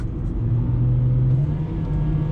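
The engine of a 2017 Opel Corsa 1.4 automatic hums under throttle, a steady, close drone that rises slightly in pitch as it revs.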